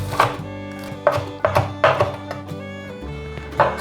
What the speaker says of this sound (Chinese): 把青江菜的梗切细， 把青江菜切碎。